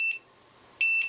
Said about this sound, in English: that 2 short beeps change it to 60 seconds